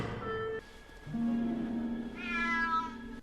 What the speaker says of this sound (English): It's a very fluffy cat.